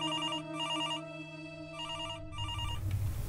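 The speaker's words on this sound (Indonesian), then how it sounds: "Telepon bunyi." A telephone bell ringing in repeated trilling bursts with short gaps between them, clear and fairly close, then fading into low background noise.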